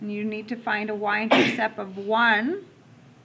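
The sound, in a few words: sneeze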